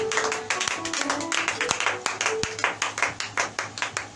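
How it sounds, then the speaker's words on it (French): A church congregation breaks into steady rhythmic clapping, many hands beating together with a few cheers and voices mixed in, the claps growing sharper and more regular toward the end. "Donne-moi une acclamation."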